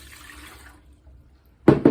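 Warm water is poured into a bread machine pan: a soft running wash fades to near quiet, then two loud splashing bursts land close by at the end, with no talk.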